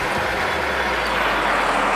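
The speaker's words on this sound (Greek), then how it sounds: "Μια βαβούρα, μια φασαρία, κόρνες," Dense roadway noise fills a city street in Athens, a steady wash of truck and vehicle rumble with no break, loud and close, no horns standing out.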